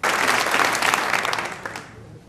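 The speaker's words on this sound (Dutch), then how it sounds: "Dames en heren, wat mij betreft nogmaals een hartelijk applaus" A roomful of guests claps warmly at a business networking party, dense close applause that holds strong for about two seconds before tapering off quickly.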